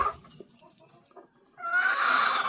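Breeding hens of the talisay line at Emery Game Farm cluck in a few short, close calls, followed by a louder burst of rustling, flapping noise near the end.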